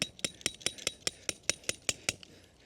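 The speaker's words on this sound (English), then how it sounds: "hammer it down" Metal tent stake being hammered into the ground while pitching a Snow Peak Alpha Breeze tent: a dozen sharp, ringing metallic clinks in a steady, fairly quick rhythm, close and loud, with no talking.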